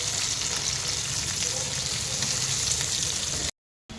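A chopped onion frying in a pan, a steady dense sizzle with faint stirring that cuts off abruptly near the end.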